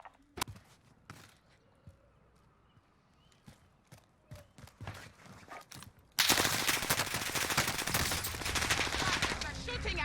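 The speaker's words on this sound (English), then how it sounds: "They're shooting at me." Video game gunfire: a few isolated sharp shots at first, then a sudden loud, sustained burst of rapid automatic fire close by that continues to the end.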